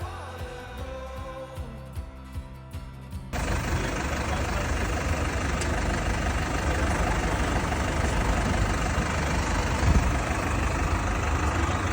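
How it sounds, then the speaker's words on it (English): A loud, heavy John Deere tractor engine roars steadily nearby, rising sharply after a few seconds of lower idling thumps and holding at full volume. "That lad again on his very loud tractor"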